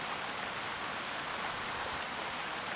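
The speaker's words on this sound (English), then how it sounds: "That's a cute little waterfall there." A small waterfall in a video game pours in a steady, even hiss of rushing water, continuous and moderately soft throughout, with no voices.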